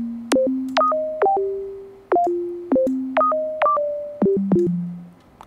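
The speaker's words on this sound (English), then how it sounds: "What we're aiming here is for a very quick descent from very high pitch to the original pitch, so that we will get a clicky sound" Clicky sine synth plucks with a very fast downward pitch sweep from a high start to the base note, about a dozen sharp attacks in an uneven melodic pattern, each decaying quickly, alone with no talk.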